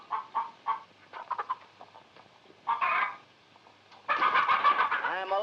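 Barnyard chickens in a farm scene cluck in short bursts, a brief flurry early on and then a louder, denser stretch of squawking near the end, with no talking.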